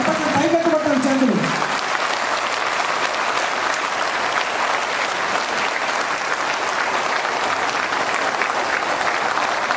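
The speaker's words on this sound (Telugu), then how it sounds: "ఒక్కసారి ఆ రెండు చేతులు కలిపి గట్టిగా చప్పట్లు కొట్టండి" A crowd claps hard and steadily for about ten seconds, dense and loud throughout, with a brief voice near the start before the applause takes over.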